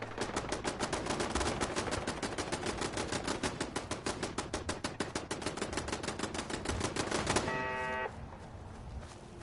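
Automatic gunfire in Fallout 4: a long, evenly spaced burst of rapid shots, loud and sharp, running for several seconds before cutting off and leaving a brief tonal ring and quieter ambience.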